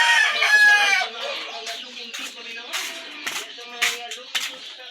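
A chicken crows loudly up close, followed by a series of sharp intermittent clucks and squawks.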